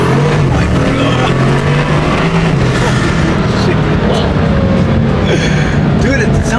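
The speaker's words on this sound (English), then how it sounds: "it sounds like a boosted car" A Bugatti with a quad-turbo engine roars loudly from close by, a dense sustained engine drone with rising revs, while excited voices talk over it inside the car.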